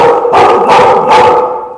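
A dog barks three times, loud and close, each bark sharp with a short gap between, and nothing else in the background.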